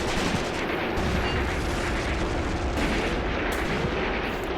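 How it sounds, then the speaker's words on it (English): Graviteam Tactics: Mius-Front battle sounds, a dense, continuous barrage of gunfire and artillery rumbling and crackling without pause, loud and unrelenting, with no speech. "Just the constant sound of gunfire goes to show you how vicious this battle has been."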